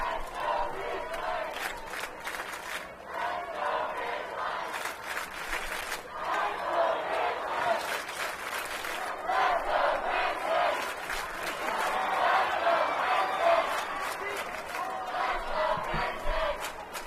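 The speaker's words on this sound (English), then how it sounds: "Crimson Cliffs trying to continue to cheer on that defense that's standing tall here." Crimson Cliffs fans at a 4A boys soccer championship against Ridgeline keep up a sustained, rising and falling roar of cheering and chanting for their defense, with a commentator audible faintly beneath.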